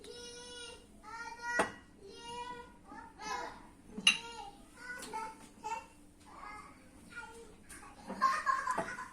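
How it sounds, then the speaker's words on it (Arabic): Young children making noise in a home, with babbling, chatter and bursts of laughter from nearby throughout, rising and falling in short overlapping phrases. "شايفين ولا سامعين دوشه العيال؟"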